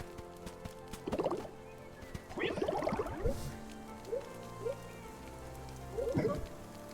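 Steady soft patter of rain falling throughout, overlaid by scattered bursts of chirpy, warbling game sound effects from the video game Cozy Grove: Camp Spirit.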